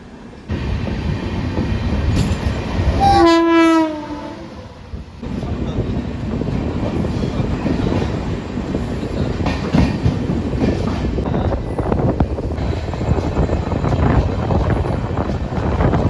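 The Amritsar–New Jalpaiguri Express rumbles past, a loud, steady roar of railcars with rhythmic clatter and a brief horn-like tone near the start, heard close and continuous without talk.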